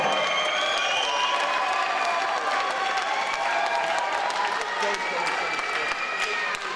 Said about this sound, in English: So massive round of applause for him.